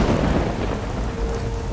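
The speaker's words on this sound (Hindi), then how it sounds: "बारिश भी जोर से आ रही है" Heavy rain pours down with thunder, a loud, dense, steady roar of the downpour layered over a deep rumble, with no voices.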